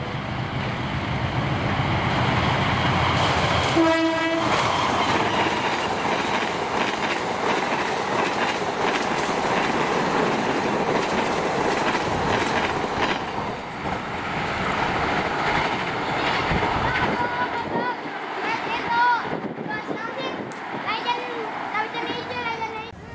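A passenger train rolls through Kosambi station in Indonesia, its loud, continuous rumble and clatter of wheels on rails filling the scene, with a short horn-like tone early on and a squealing element near the end.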